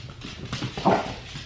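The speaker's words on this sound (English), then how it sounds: "the dogs are running and wrestling this morning" Dogs running and wrestling outdoors in the morning: scuffling paws, thumps and short growly huffs in an uneven jumble, close and moderately loud, no speech.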